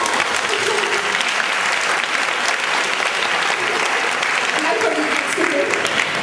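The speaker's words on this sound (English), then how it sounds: "So everyone, I think you deserve a clap." An audience at a comedy talk show claps steadily for several seconds, a dense, even wash of applause from a modest crowd with a few voices audible underneath.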